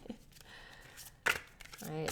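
A deck of tarot cards is shuffled by hand indoors, giving a few soft riffles and one sharp, louder burst near the microphone, with a person speaking around it.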